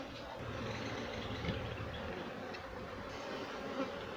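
Honeybees at an open hive during a beekeeping inspection in Jamaica, a soft continuous drone of many bees humming steadily in the background with no talk.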